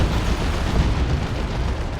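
Black Grenade explosions from a Chaos Plague Champion in the video game Dawn of War 2, a rumbling wash of booms and bursts rolling continuously for two seconds, loud and dense amid battle noise.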